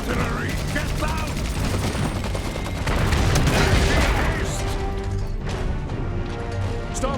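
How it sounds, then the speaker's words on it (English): Artillery and gunfire rage in the Iron Harvest battle game, with dense booms and rapid shots layered into a loud continuous barrage, under a shouting voice. "Artillery, get down!"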